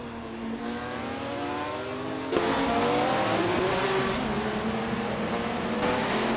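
A 1977 Porsche 936 race car engine drones steadily in a racing video game, its tone rising and shifting through gear changes with a sharper surge midway, loud and continuous with no talking.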